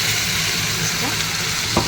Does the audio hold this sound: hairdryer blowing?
no